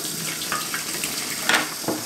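A small blender blade rinsed under a running kitchen tap, a steady close hiss of flowing water with a few brief splashes as the blade is turned in the stream.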